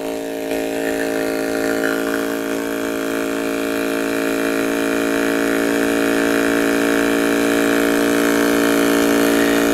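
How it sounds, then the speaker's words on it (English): A 12 volt fuel transfer pump moves fuel with a steady, loud electric motor whine and a constant droning hum that holds without pause, rising slightly in level over ten seconds. "There's definitely a lot of fuel flowing through that very quickly."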